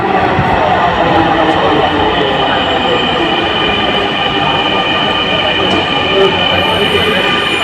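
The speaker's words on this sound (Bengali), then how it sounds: "কিছুক্ষণের পর এইমাত্র ট্রেন আসলো।" A Dhaka metro rail train arriving at a station, a loud close rumble and rolling rush of railcars with high squealing wheel tones, sustained throughout as the train pulls in.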